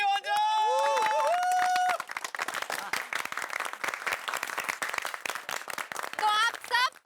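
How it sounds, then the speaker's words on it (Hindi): Enthusiastic clapping from a crowd in a Taarak Mehta Ka Ooltah Chashmah sitcom scene about a vaccination drive, rising after a burst of tonal music and continuing steadily, with musical stings returning at the close. "तो इसी बात पे जोरदार ताली हो जाए।"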